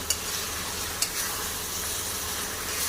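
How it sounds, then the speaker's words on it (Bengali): Fried potatoes sautéed in cooked-down spice masala for biryani give a steady, close sizzle with scraping stirring, and two brief clinks near the start. "আলুটাও ভালো করে কষিয়ে নেব"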